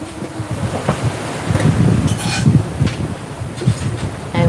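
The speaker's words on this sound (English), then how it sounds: "And the sounds of the boat." A sailboat moves through the Banda Sea, with splashing and sloshing against the hull, wind buffeting the microphone, and occasional creaks and knocks of rigging.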